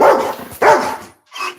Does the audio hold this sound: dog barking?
yes